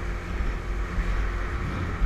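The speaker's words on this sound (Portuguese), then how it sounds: "Oh, agora a lancha tá indo pra prova" A small mini motorboat that is taking on water runs across the water, giving a continuous, fairly close engine drone mixed with wind and water noise and no speech.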